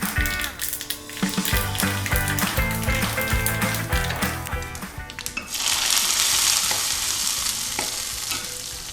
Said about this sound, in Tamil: எண்ணெய் போட்டுட்டு கடுகு, சீரகம், கொஞ்சம் காஞ்ச மிளகாய் போட்டிருக்கேன் தாளிப்புக்கு